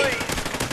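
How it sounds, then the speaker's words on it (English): Sniper rifle fire in Call of Duty sounds as a brief burst of sharp cracks, fairly close, over a background of game noise. "I hear sniper gun going"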